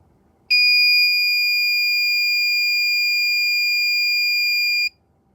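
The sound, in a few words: endotracheal tube movement detector alarm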